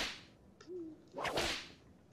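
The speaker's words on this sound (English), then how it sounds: "Wanted to try this whip out." A whip swung in the VR game Rec Room gives a quick swish followed by a sharp crack, heard once, fairly faint and with no voices.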